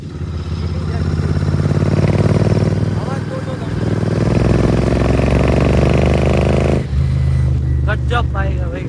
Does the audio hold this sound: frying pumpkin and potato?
no